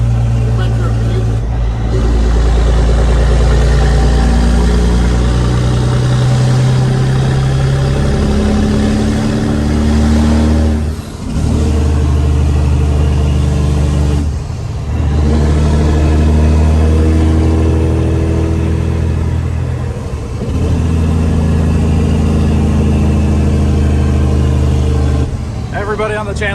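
A Peterbilt cabover truck engine runs loud and close, a deep steady rumble that dips briefly a few times as the throttle eases, then swells back, with people talking over it.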